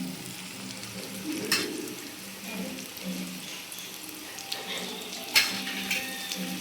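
Spices and green chillies frying in oil in a pan for fish curry, a soft continuous sizzle with a few brief clinks and scrapes, fairly quiet and without any voice.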